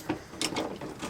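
Short ratcheting clicks from a wrench backing out 14 mm screws on a Lexus RX400H during a tow hitch installation, a few quick close mechanical bursts in about a second.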